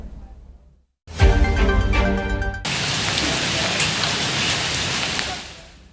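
Heavy rain pours down in the city of Solo, a dense, loud, steady roar of water lasting for seconds after a brief quiet gap and a sharp burst at the start.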